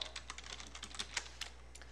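Computer keyboard keys clack in a quick, uneven stream of light taps while someone fills in a table, fairly close and quiet, with no speech over it.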